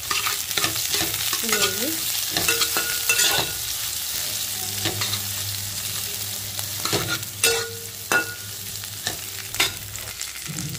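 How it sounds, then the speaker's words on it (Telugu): Onions and green chilies fry in oil for egg fried rice, a steady sizzle broken by repeated scraping and clinking as a spatula stirs the pan, with a brief word spoken. "ఇదిగోండి ఉల్లిపాయలు, పచ్చిమిరపకాయలు కూడా వేసేసుకున్నామండి."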